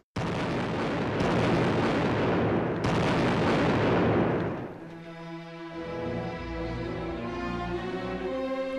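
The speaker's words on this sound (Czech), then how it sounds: "Ještě se střílí, ještě dunějí děla." Heavy booming artillery cannon fire rumbles in overlapping blasts near Brno, then gives way to a lower, sustained drone with tonal music-like layers.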